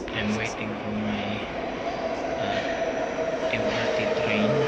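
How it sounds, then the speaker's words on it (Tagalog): An MRT train passes through an underground station in Warsaw, Poland, a steady low rumble and hiss of wheels and motors sustained throughout, with voices murmuring faintly in the background. "the train is already passing"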